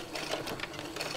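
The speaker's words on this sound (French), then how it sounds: "je suis en vitesse minimale et je viens coudre" A sewing machine runs a straight stitch at its slowest speed, giving a quiet, steady mechanical whir with faint rhythmic ticking of the needle, close and uninterrupted by voices.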